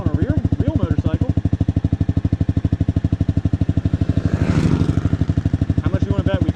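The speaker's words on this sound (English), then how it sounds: "Here's someone on a real motorcycle." A motorcycle riding past on the road, its loud pulsing engine rising briefly as it draws level, heard over the steady close drone of the rider's own sport bike engine and wind, with someone talking.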